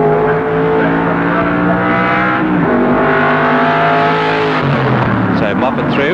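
Improved Production touring cars racing at Warwick Farm, a close engine roaring through the gears with a steady harmonic drone, dropping in pitch at a shift and rising again, under a commentator's voice.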